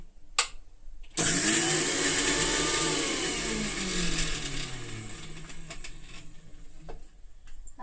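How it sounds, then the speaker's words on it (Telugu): An electric mixer crushing spices and coriander for masala buttermilk whirs loudly and close, spinning up abruptly after a few light taps, then grinding on with a slowly falling whine. "మనం ఫస్ట్ ఒకసారి దీన్ని క్రష్ చేద్దాం"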